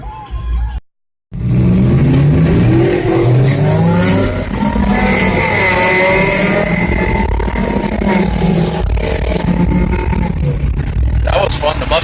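A Ford Mustang launches hard and revs at a car meet, its loud engine climbing through rising harmonic sweeps for several seconds right after a brief dropout, sustained and close.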